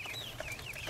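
Chickens clucking continuously, close and clear, in a farmyard with no talk over them.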